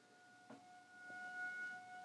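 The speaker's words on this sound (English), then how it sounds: "They're testing the tornado siren." A faint, steady tornado siren test tone drones on in the distance, a long sustained wail with light background noise.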